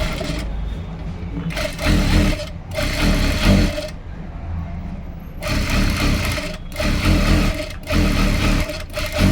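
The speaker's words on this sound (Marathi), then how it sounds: "तर आता पूर्ण असं स्टिच करून घेऊया" A sewing machine stitches a blouse sleeve in rapid, close mechanical bursts, with several runs separated by short pauses.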